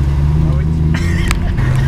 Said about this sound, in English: Today we're just in my Lamborghini and we're mobbing around LA.